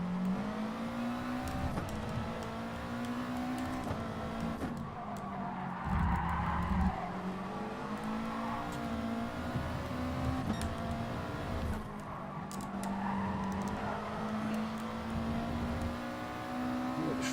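A GT Sport race car screams along at high revs while its tyres skid and squeal through corners, the engine note dipping and climbing with gear changes and the scrubbing tyres sustained over it.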